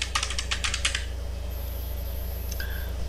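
Keys tapped on a computer keyboard in a quick burst of several clicks during the first second, followed by near silence with faint background hum.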